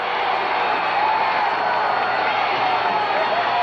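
A wrestling crowd roars steadily as a wrestler is carried out holding his leg, a dense continuous wash of cheering at even loudness throughout.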